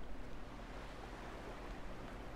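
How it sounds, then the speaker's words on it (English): Ocean waves wash steadily on a shore in the video game Dear Esther, a soft continuous surf rumble with no distinct breaks, moderately loud and alone. "it's so soothing hearing the waves of the water"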